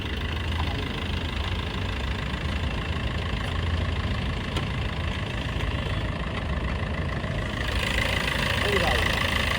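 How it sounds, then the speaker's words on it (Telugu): A 2018 Maruti Ertiga VDI SHVS diesel smart hybrid idling after starting on the first crank, a steady close rumble with faint knocking that runs throughout, under someone talking. "ఒకసారి స్టార్ట్ చేసి సింగిల్ సెల్ఫ్లో బండి స్టార్ట్ అవుతుంది."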